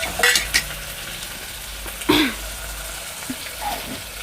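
Tomatoes and curry leaves fry in a pan under a soft, low sizzle, broken by a few distinct scraping stirs and clinks of a utensil against the pan.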